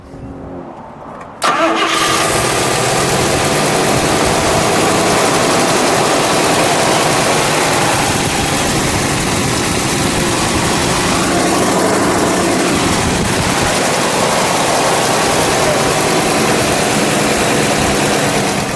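A 426 Hemi V8 in a 1969 Plymouth Road Runner rumbles at a steady idle after firing up, loud and close, with a deep throaty drone that holds throughout.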